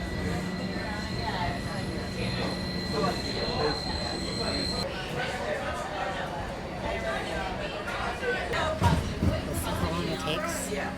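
A SEPTA train rumbles and hisses in a station with steady mechanical noise, a brief squeal of wheels near the end, and voices murmuring underneath.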